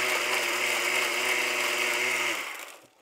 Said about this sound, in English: 3 times for the blender to work.